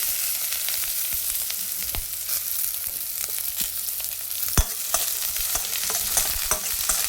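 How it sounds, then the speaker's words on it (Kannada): Onion frying in oil with dried red chillies for a chilli rasam, a close, steady sizzle broken by frequent sharp spatula taps and scrapes against the pan. "ಈರುಳ್ಳಿನೂ ಕೂಡ ಒಂದು ಸ್ವಲ್ಪ ಫ್ರೈ ಮಾಡ್ಕೊಳ್ಳಿ"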